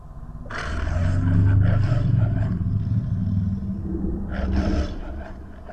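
A man imitates a lion with his own voice, letting out two loud, gravelly roars close up, the first long and sustained, the second shorter and fading.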